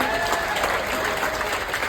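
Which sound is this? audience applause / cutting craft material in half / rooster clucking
audience applause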